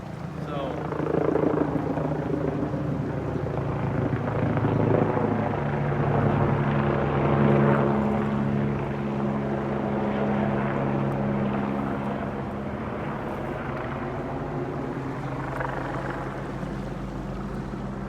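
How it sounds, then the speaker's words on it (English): A Life Flight rescue helicopter fitted with a hoist flies overhead along rugged Utah trails, its rotor chop a steady, moderately distant drone that swells and fades while people talk outdoors. "I'm pretty sure that's the chopper with the hoist"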